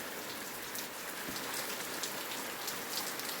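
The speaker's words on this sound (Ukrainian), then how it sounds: "І сонце світить, і дощ іде." Steady rain falls on surfaces outdoors in a sunny shower, producing a continuous, even patter at moderate distance with no voices.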